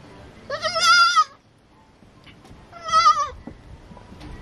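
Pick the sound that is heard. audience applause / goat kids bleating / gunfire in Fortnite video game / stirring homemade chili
goat kids bleating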